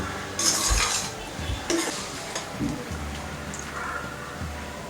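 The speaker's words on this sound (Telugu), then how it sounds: "మనం గ్రైండ్ చేసుకున్న టమాటో మసాలా పేస్ట్ని అందులో వేసుకొని ఒక రెండు నిమిషాలు ఫ్రై చేసుకోవాలి" Thick ground tomato masala paste being stirred and fried in a pan, with scraping strokes of a spoon against the metal, light sizzling and occasional clinks, up close and with no talk.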